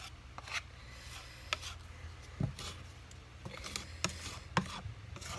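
Wood filler being pressed and scraped into the cracks of a wooden hockey trophy: soft, irregular rubbing and scraping strokes, close and quiet, with no one speaking.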